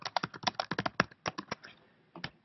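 Typing into a spreadsheet cell on a computer keyboard: a quick run of crisp, close keystrokes that slows toward the end, followed by a short pause and two final taps, with no talking.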